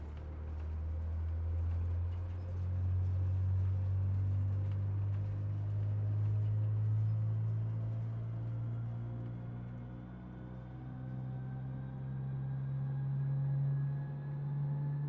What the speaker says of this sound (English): we're going to start engine number 3 first